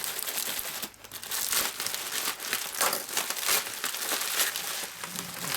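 Cardboard crinkles and rips as a layer is torn off a box by hand, a run of dry crackling bursts and tearing sounds close up, with no speech.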